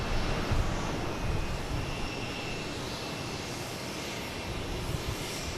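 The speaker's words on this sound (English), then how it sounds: "We have Alaskan Airlines coming in from Seattle, 737-900" Steady jet roar from an Alaska Airlines Boeing 737-900 landing at Boston Logan, a broad continuous rumble and hiss at fairly even loudness, heard from a distance outdoors with no talking.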